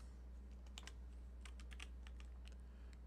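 Typing on a computer keyboard while drawing an underground cave map in Dungeondraft, with scattered clusters of quick, light key clicks over a low steady hum, close and fairly faint, with no talk.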